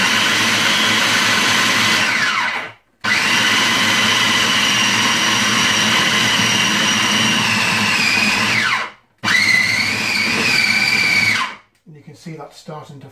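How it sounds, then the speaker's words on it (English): A kitchen blender works corned beef pie dough with a loud, close, whirring motor that runs in long bursts and stops abruptly between them, its pitch sagging as the dough thickens. A voice briefly talks near the end. "we're going to blend that until the dough starts to form in a ball"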